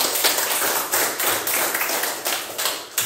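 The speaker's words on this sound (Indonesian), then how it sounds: "Tepuk tangan dulu untuk Asaki." Classroom applause for a student during a guidance lesson on stopping bullying: a small group clapping in uneven bursts with sharp individual hand claps, fairly close, without talk.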